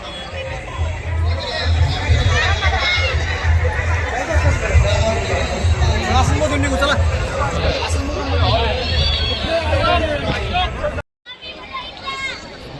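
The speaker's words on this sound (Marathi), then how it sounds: "तुम्ही गर्दी बघू शकताय" A dense crowd at the Ganpati festival in Pune makes a loud, continuous babble of many voices close by, with brief calls rising out of the steady hubbub.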